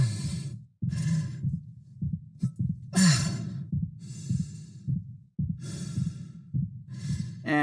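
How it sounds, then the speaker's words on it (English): An injured character in the Dead Space Remake breathes heavily, close and alone, with rhythmic ragged inhales and exhales broken by short pained winces and grunts. "we start to introduce little winces of pain mixed into his breathing cycle."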